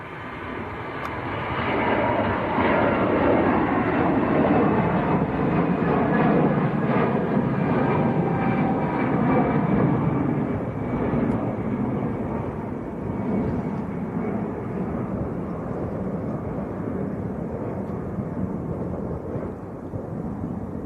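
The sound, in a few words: EasyJet airliner taking off on the runway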